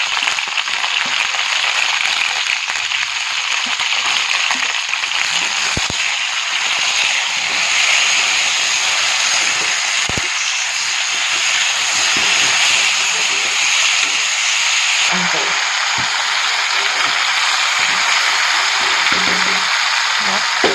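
Cauliflower and potato fry with salt in a pan, a continuous loud sizzling hiss that holds steady throughout, with a few faint clinks and stirring sounds beneath.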